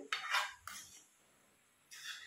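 A spoon scraping and clattering against a pan while potato, fenugreek and spinach sabzi is stirred, three short bright metallic bursts separated by quiet gaps, close and fairly soft.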